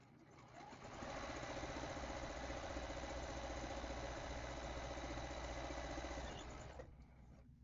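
A sewing machine hums at a steady high-speed whir for several seconds while machine quilting a charity baby quilt, starting and stopping cleanly, close and fairly loud.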